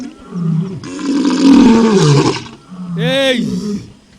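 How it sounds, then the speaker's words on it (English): Recorded lion roar played through speakers at a conference event, a loud, deep, drawn-out roar followed by a second rasping roar, filling the room. "Listen to that roar."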